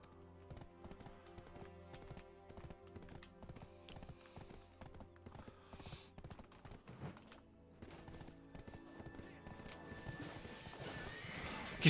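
Horse neighing and hooves clip-clopping in the video game Black Desert, quiet rhythmic hoofbeats repeating steadily, with a whinny and rising background noise toward the end.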